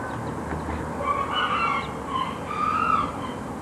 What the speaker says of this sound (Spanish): Este pollito blanco.